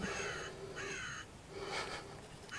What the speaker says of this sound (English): Those crows are crowing in the background.